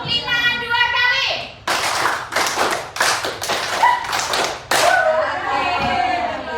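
Children clap out a rhythm pattern in a classroom, with five bursts of several quick claps each, separated by short pauses; a teacher's voice is heard before and after.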